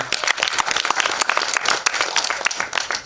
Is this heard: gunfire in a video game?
no